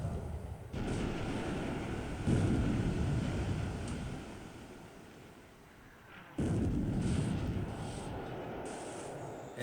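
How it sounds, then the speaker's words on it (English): Shell hits on a Dutch light cruiser in the naval war game War in the Pacific, with heavy booming explosions and rumbling blasts, one loud burst after another and a lull between them. "I'm normally waiting only for my 8-inch or 20 centimeter shells to hit on the Sumatra."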